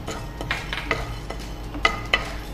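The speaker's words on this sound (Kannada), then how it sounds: "ಸೊ ಇದು ಕೆಂಪಗಾಗುವವರೆಗೂ ಫ್ರೈ ಮಾಡ್ಕೋಬೇಕು." Chana and urad dal dry-roasting in a pan, stirred with a spatula, produce short scraping and rattling strokes every half second or so over a soft, constant background hiss.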